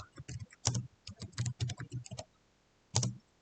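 Typing on a computer keyboard while entering a gross-profit report name in accounting software, heard as quiet, irregular bursts of close keystroke clicks, a short pause, then one more quick burst.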